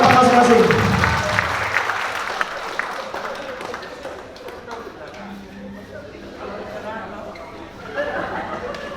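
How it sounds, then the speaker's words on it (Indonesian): An audience at a motivational training session claps after a group exercise. The applause is loud at the start and gradually thins out, with a murmur of chatter and voices running underneath. "Beri tepuk tangan"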